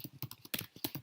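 Quick keystrokes on a computer keyboard, about a dozen close, crisp clicks in an uneven burst, heard alone without talk.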